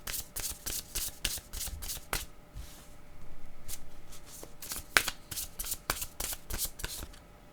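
Tarot cards being shuffled by hand in quick, papery bursts of riffling and rubbing, close and fairly quiet, with a brief pause partway through before the shuffling resumes.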